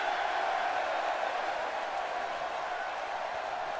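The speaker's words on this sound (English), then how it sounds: "Look at this beautiful NXT crowd tonight." Arena crowd from an NXT show in WWE 2K17, a steady wash of cheering and applause that holds at an even level throughout, with no commentary on top.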